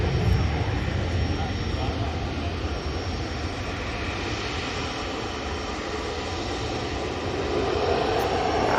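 A jet airliner takes off for Faro, its engines making a loud, steady, broadband roar that fills the whole stretch with little change in level.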